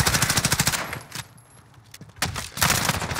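Gunfire in a first-person shooter game as a teammate tries to shoot through a wall: loud rapid automatic bursts, then a brief lull, then more sustained fire close up.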